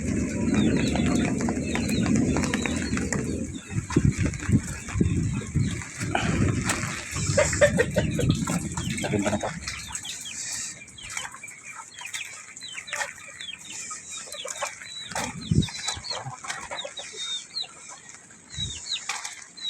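Chickens cluck and chatter in short repeated calls, with wing flaps and rustling early on over a noisy background that later quiets.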